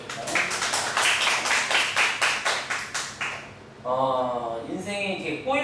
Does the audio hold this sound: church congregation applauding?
yes